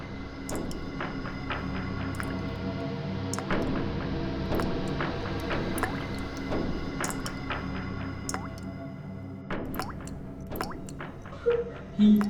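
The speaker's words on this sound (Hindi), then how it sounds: "कुछ टपकने की आवाज आ रही है ना?" Liquid drips in a kitchen during a crime-drama scene, a steady series of distinct, irregularly spaced drops at close range over a low background hum, with no talk.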